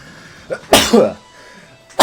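A single sneeze at a Yu-Gi-Oh! card tournament, with a short intake of breath before a sharp, close burst, then quiet room tone and a brief voice at the end.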